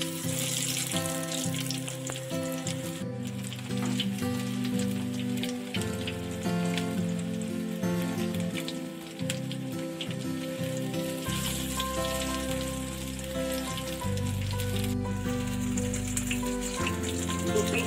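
Cabbage pieces fry in oil over a medium flame until golden brown, giving a steady, crackling sizzle that carries on throughout, fairly quiet, with music playing underneath.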